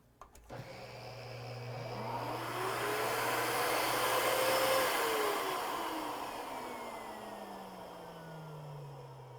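Old Miele vacuum cleaner switched on after a click, its motor winding up to a loud, steady whining roar, then gradually settling while running on alone at close range.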